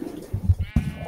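Sheep in Minecraft's FTB Skies modpack bleat twice in quick succession, short wavering baa calls, close and fairly loud, with a faint voice murmuring just before.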